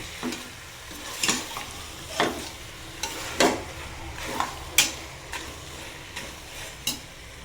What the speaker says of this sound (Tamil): கறி நல்லா வதங்கணும்.